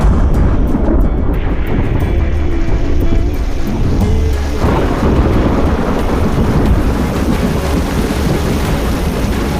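Heavy monsoon rain pours steadily in an Indonesian island setting during a thunderstorm, a dense continuous roar of downpour with low rumbling thunder rolling underneath, loud and close throughout with no voices.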